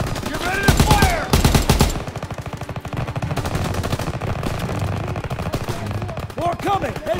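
Rapid bursts of gunfire from a World War II first-person shooter, Call of Duty WW2, crackling loud and dense at the start then continuing as steady automatic fire with shouted battle voices mixed in.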